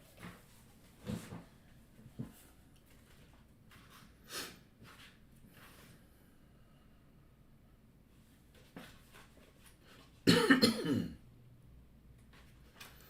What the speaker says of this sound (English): this cough's going to drive me crazy